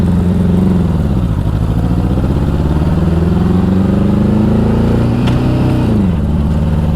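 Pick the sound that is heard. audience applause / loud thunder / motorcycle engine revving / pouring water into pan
motorcycle engine revving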